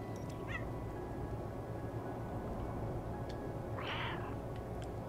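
A cat meows in the video game Stray, a short, mid-loud call rising near the end above a steady low background hum, with a faint higher mew earlier.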